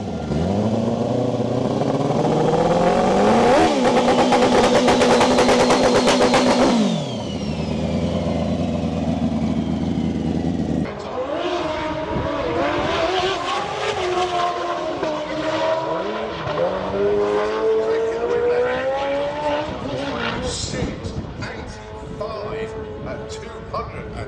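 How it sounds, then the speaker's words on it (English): Suzuki Hayabusa drag bike at Santa Pod Raceway launching down the quarter mile at about 217 mph, a loud high-revving engine roar that builds, then fades as it pulls away, followed by other engine noise and crowd ambience. "So we've just seen Jake Michelle on the Hayabusa hit 217 mile an hour in that quarter mile straight"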